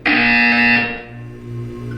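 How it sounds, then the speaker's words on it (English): A buzzer from the Portal 2 video game sounds as a loud, harsh electronic tone that holds for about a second, then drops away into a lower, steady hum. "You will hear a buzzer."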